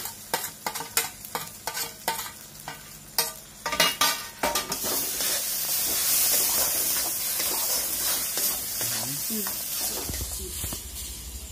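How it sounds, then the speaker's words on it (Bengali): Raw grated taro paste mixed with ground onion, garlic and chilli fries and is stirred in a pan, with steady scraping strokes at first giving way to a continuous loud sizzle, no talking. "দেখো আমাদের কিন্তু খুব সুন্দর করে 5 মিনিট এভাবে নেড়ে নেড়ে ভেজে নিয়েছি।"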